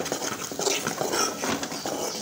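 Coconut and garlic being stirred in a pan with a spoon, soft scraping and clinking of utensil against metal, close but fairly quiet, with irregular strokes and no talking.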